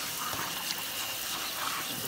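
Hot water sprays from a nozzle to rinse a Chalk Couture stencil, a steady broadband hiss of running water that holds at an even level throughout, close and continuous.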